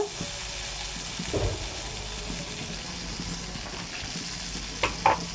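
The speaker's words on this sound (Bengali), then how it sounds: "এটা তেলে দিয়ে দিলাম আমাদের যে টমেটো আদা রসুন পেস্টটা প্রথমে দিলাম" Tomato, ginger and garlic paste fries in hot oil for a Bengali mustard rohu curry, giving a steady low sizzle with a few clinks and stirring knocks near the end.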